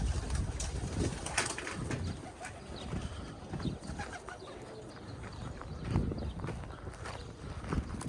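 Pigeons in a coop coo and flutter nearby amid steady rustling and shuffling footsteps, a busy, continuous background with occasional louder wing or scuffle sounds.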